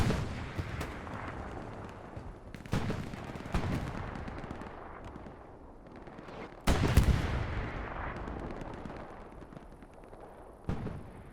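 Artillery rockets and gunfire in a video game battle at Kursk Windmills, with several sharp, loud blasts spaced apart over a continuous rumble of distant fire and no talk.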